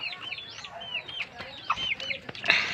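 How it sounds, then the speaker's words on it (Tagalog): Chickens clucking and calling repeatedly, fairly close, with a few sharper squawks; no talking. "Mga chicken ni Beatrice na."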